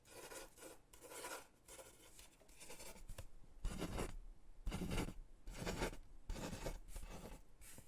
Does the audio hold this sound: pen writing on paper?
yes